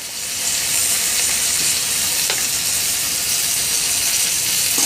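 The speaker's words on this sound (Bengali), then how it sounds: "এখন ভালো করে পেঁয়াজের সাথে মশলাগুলো ভাজতে হবে" Garlic, ginger, garam masala and cumin pastes frying with onion in a pan give a loud, close, hissing sizzle that swells in the first moment and then holds steady, with faint stirring scrapes and no speech.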